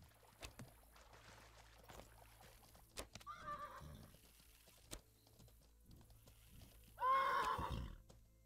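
A horse whinnies twice near a bridge crossing, a brief call followed by a louder, longer neigh, with soft hoof clops and scattered knocks in a quiet outdoor setting.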